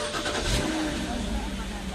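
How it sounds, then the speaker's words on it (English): A BMW E90 3 Series car engine starts and settles into a steady, close, full-bodied running rumble with some hiss, a voice faintly present alongside. "Maybe I should start the car."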